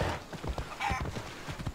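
Horse hooves clip-clopping in Assassin's Creed Odyssey, a steady run of moderate-volume hoof falls on the ground, with a faint whinny-like tone partway through.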